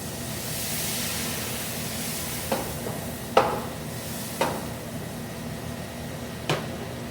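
White wine sizzling in a pan with sauteed shrimp, a steady hissing sizzle throughout with a few sharp scraping clicks of a utensil against the pan.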